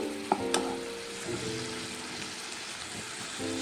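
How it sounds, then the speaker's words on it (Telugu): Sugar syrup boiling in a pan for ghee Mysore pak, a steady close bubbling sizzle with a few sharper pops near the start, continuing evenly throughout with no talk. "ఇక ఇట్లా బాయిల్ వస్తుంది"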